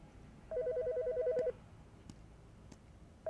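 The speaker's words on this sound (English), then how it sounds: "The fucking phone." Telephone ringing in a horror video game: a one-second electronic warbling ring, fairly close, followed by a quiet gap and the start of another ring at the end.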